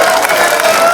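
A live concert audience bursts into loud applause mixed with cheering and whoops in one brief, dense burst of crowd noise.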